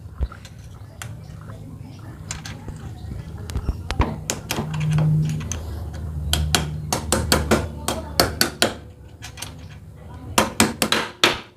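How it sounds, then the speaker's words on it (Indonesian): Hammer taps on a motorcycle steering head bearing race (komstir) being seated, sharp metallic knocks coming in uneven bursts, building to a quick loud series near the end, with some clatter between strikes. "Kita ketok pakai bekasnya, pakai palu ya."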